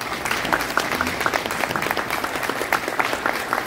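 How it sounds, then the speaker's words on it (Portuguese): Audience applause at a Rotary Club São Paulo meeting, greeting a woman who had spoken at a previous session. Dense, steady clapping from a crowded room, with no pauses and no voices over it. "uma salva de palmas"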